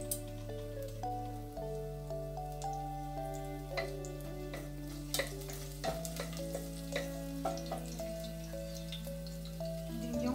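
Garlic sizzles in a pan while arroz valenciana is cooked, a soft steady frying crackle with scattered light pops and clicks under a low background hum.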